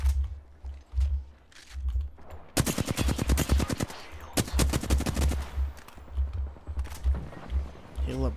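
Automatic bursts from the Flatline rifle in Apex Legends, two long rapid volleys and scattered shorter shots, loud and close, with a voice talking in between.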